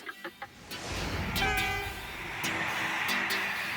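A Moroccan passenger train near Fez rumbling along at speed, with a steady roar and a few sharp high whistle-like tones rising above it.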